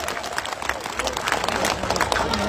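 A crowd at a political rally in Cooch Behar claps loudly and densely for a short burst, with voices mixed in.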